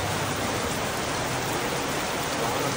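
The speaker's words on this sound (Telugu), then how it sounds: "వర్షం గట్టి పడుతుంది," Heavy rain pours steadily during a long-distance walk from Vijayawada toward Puri, a dense, unbroken hiss of water hitting the ground close by, loud and even with no voices.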